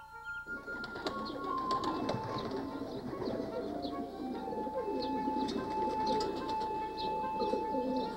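Fancy pigeons at Charles Darwin's former home coo in soft, repeated throaty calls over a steady background hum, with a few higher bird notes scattered through and nobody talking.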